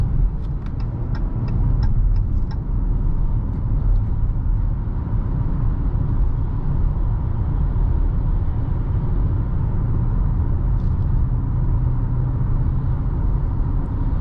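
Steady engine and road rumble from a 2023 Dodge Challenger SXT, rear-wheel drive, cruising down the road, heard from inside the car, constant and fairly loud with a few faint clicks early on.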